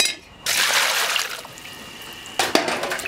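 Beef bones are rinsed under running water, a steady splashing stream that swells after a brief quiet start, with a second louder burst of splashing near the end.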